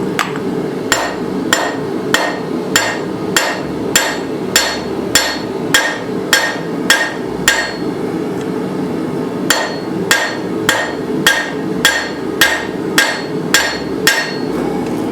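Steady rhythmic hammer strikes on an anvil while forging a snake from rebar, glancing blows from a rounded hammer face ringing out sharply at an even pace, with a brief pause midway before the blows resume.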